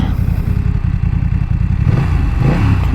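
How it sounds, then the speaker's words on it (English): A BMW F900XR motorcycle engine revs close by, a deep, throaty rumble that holds steady and then swells slightly in pitch toward the end, loud and with no talking over it. "Sounds like a big motor with a deep throaty sound"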